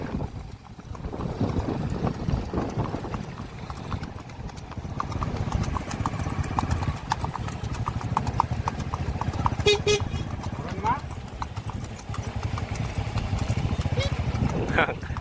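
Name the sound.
Kathiyawadi mare hooves clip-clopping while ridden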